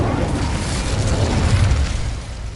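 An Incendio fire spell in Hogwarts Legacy gives a loud, sustained whooshing burst with a deep roaring rumble that swells and then fades slightly.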